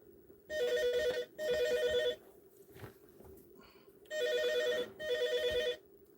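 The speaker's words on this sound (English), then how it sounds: "Don't worry about the phone, folks." Telephone bell ringing indoors in two pairs of long electronic trills with a pause between the pairs, fairly close and clear, with faint movement noises in the gaps.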